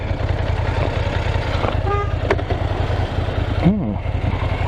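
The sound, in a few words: car horn honking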